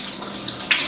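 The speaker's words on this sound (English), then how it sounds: "So now I'm going to rinse the grains under the filtered water." Filtered tap water runs steadily over milk kefir grains held in a strainer, a close, continuous splashing rinse that brightens with a sharper spattering burst near the end, with no voice.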